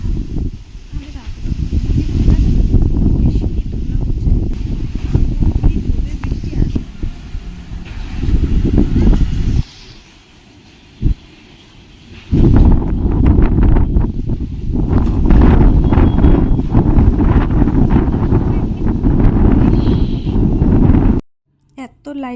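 Storm wind tears through trees at night, a loud, continuous broadband roar of gusts and shaking branches that drops briefly to a lull partway through and then surges back.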